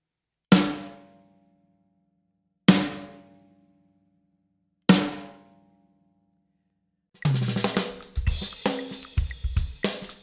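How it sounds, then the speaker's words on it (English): Three separate snare drum rim shots crack out, each a sharp, ringing strike that decays over about two seconds, followed by a busy stretch of rapid rim shot strokes. "The rim shot stroke is a combination of hitting the rim of the snare"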